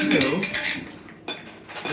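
Sauerkraut goes into a breakfast bowl with a loud, close clatter of a utensil scraping and clinking against the dish, then a short pause and another scrape.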